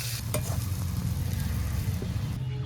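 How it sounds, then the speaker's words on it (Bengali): Egg pakora frying in oil is stirred with a metal spatula: a close, steady sizzle broken by scraping strokes and a couple of sharp clinks. "খুন্তি দিয়ে ডিমের পোকোড়া নাড়ছি"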